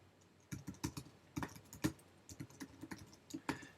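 Code being typed on a computer keyboard: quick irregular clusters of crisp key clicks, close and fairly quiet, with short pauses between bursts.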